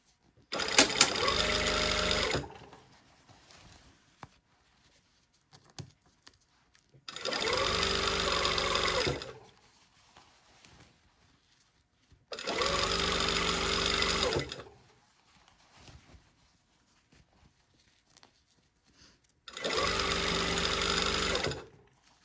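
A sewing machine bastes an invisible zipper into fabric in four loud, close bursts of fast stitching, each a couple of seconds long, separated by quiet pauses.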